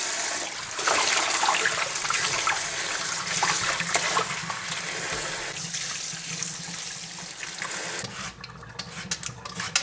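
Tap water runs steadily into a sink while cucumbers, lemon and other produce for a juice are washed, a continuous close hiss with faint rubbing and handling, easing off near the end.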